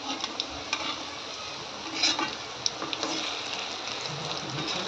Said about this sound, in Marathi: तर आधी मी आता ह्या तळून घेते।